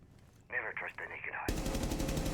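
Rapid automatic gunfire in a competitive tactical shooter match, loud sustained bursts following a brief stretch where a commentator talks over the game.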